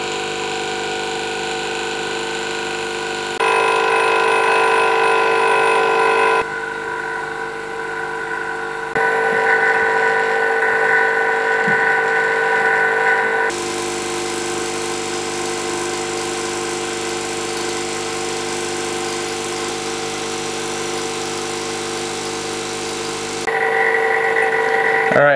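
A Harvest Right Premier vacuum pump for a freeze dryer runs steadily and loudly for the whole stretch, its tonal motor hum shifting level a few times, with no talking over it.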